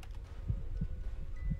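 Heartbeat in the Five Nights at Freddy's video game: soft, low thumps pulsing in a slow, regular rhythm over a dark ambient background, with no talking.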